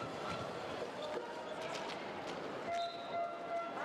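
An umpire's whistle blows sharply late in a women's Indoor Hockey World Cup quarter-final between Ukraine and Switzerland, rising above a steady wash of arena crowd noise.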